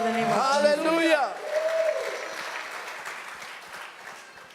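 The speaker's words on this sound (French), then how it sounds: "Est-ce qu'on peut applaudir le nom de Jésus" A church congregation at an annual conference applauds, a broad wash of clapping that fades out gradually, with a voice speaking over the start.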